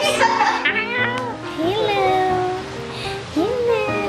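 A pet cat meows several times in a home guest room, rising, drawn-out cries close by, mixed with excited overlapping voices of women greeting it.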